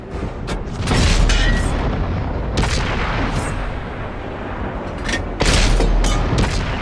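Tank cannon firing in World of Tanks, heavy booming shots and rumbling impacts in a loud battle, several blasts spaced a few seconds apart over a continuous engine drone, no talk.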